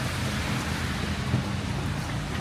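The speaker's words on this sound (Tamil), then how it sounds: "மழை வேற பெய்யுதா, சரியான மழை" Heavy rain pours steadily during a buggy ride through a tea plantation in the Cameron Highlands, Malaysia, a dense, constant roar with no breaks.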